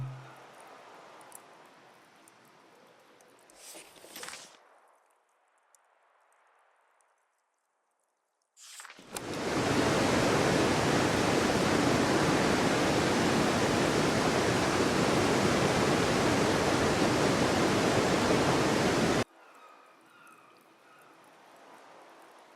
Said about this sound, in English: These waterfalls were in the backyard of an old artist I met.